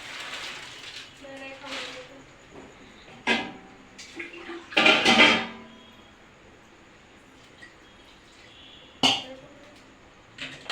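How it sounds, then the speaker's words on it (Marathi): Water is poured into a pan of sautéed chicken curry, a brief splashing burst in the middle with lighter kitchen clinks and faint room noise around it. "आता यामध्ये पाणी टाकणार आहे"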